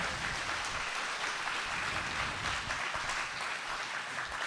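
An audience at an anti-Trump debate event in Seattle claps for a debater, a dense, steady round of applause from the room, moderately faint and continuous.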